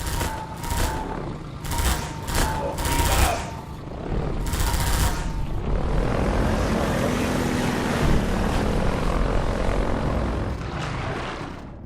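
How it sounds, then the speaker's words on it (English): A hunter chopper helicopter in the Half-Life 2 video game opens with a rapid series of loud bursts. A steady, heavy rotor and engine drone follows and fills the rest of the stretch. "Take that chopper down, and you should be able to tear on through to Eli's place."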